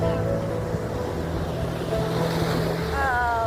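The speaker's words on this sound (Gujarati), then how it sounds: "મોટી મોટી લહેરો આવી ગઈ છે." Big sea waves wash onto the shore at Zanzmer near Bhavnagar, a steady broad roar of surf mixed with wind buffeting the microphone, while a faint motor drones and a voice speaks quietly in the background.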